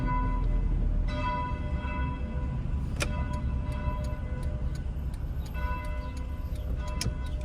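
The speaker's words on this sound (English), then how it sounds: "Oh, y'all can hear the bell." A church bell at Bethany Lutheran Church rings in repeated clear strokes at a steady pace, heard from a moving car on a city street with continuous low road and engine rumble underneath.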